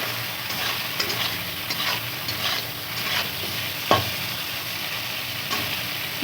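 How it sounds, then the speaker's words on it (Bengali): Prawns fry in a pan ahead of a banana-flower mocha dish, a steady broadband sizzle with a few scraping stir clicks, close and continuous with no voices. "চিংড়ি মাছটা ভালো করে ভেজে নেব"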